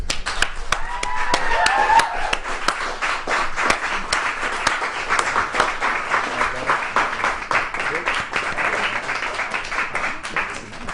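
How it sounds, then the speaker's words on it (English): Audience applause for poet June Gamble, a burst of clapping with a few cheers at the start, settling into steadier, thinner clapping from a modest crowd that carries on for several seconds. "give a really big round of applause and a big hand for my friend and excellent poet, June Gamble"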